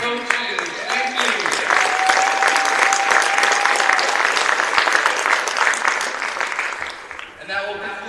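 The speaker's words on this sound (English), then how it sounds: "Give a round of applause to these outstanding coaches." Steady applause from a crowd for the coaches at a 7-on-7 all-star football classic, with a voice speaking over it early on and the clapping fading near the end.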